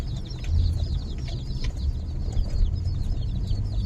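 Newly bought baby chicks peep inside a cardboard box, a steady flurry of small high chirps over a low rumbling background, close by and fairly continuous.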